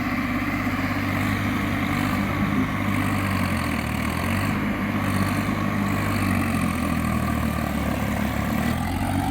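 A tractor engine rumbles steadily, running continuously at a constant idle-like pace, close and loud, with no voices.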